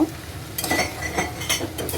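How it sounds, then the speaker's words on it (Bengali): Bottle gourd and chicken curry is stirred in a pot: repeated scraping strokes with light metallic clinks over a faint sizzle, close and fairly loud. "আবারও আমি একটু নাড়াচাড়া করে লাউ দিয়ে লাউটা ঢেকে দিব"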